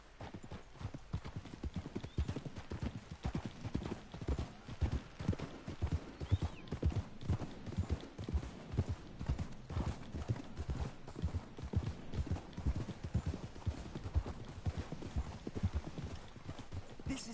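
Horses trot in Red Dead Redemption 2 with a steady, close clip-clop of hooves that keeps up throughout, and a brief whinny rises now and then.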